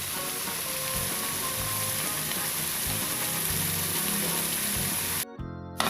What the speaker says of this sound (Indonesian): Tinggal kita aduk-aduk ya sampai matang ya